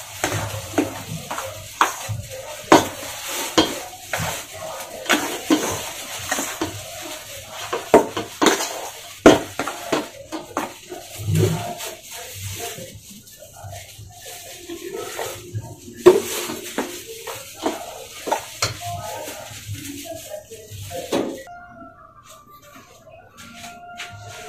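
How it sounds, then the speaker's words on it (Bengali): Rice flour dough for Makar Sankranti dudh puli pitha being kneaded by hand with hot water in a bowl, giving irregular close clanks, taps and soft squelches that thin out near the end, with no voices. "দেখুন, গরম জল নিয়ে নিয়েছি, এটাকে এখন মাখতে হবে।"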